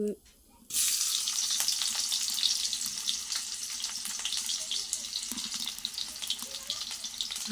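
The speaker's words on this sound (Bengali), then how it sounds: "তেলটা একটু গরম হয়ে গেলে আমি দিয়ে দেব পেঁয়াজ কুচি" Chopped onion hits hot oil with a sudden loud sizzle after a brief quiet moment, then keeps up a dense, steady crackling hiss close by throughout.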